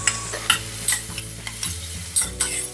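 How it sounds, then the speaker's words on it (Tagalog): Ginger sautéing in a pan, first in the pot for a rice porridge, with a steady sizzle and repeated stirring scrapes coming in bursts about every half second, fairly close. "Unahin nating igisa yung ating ginger."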